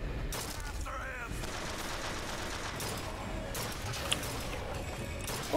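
Gunfire in the Bioshock Infinite video game rattles on steadily throughout, with a few sharper cracks over a constant noisy combat din and voices talking intermittently.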